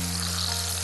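Fatty meat fries in oil at medium-high heat, giving a brief, dense hiss of sizzling with a low electric hum beneath it.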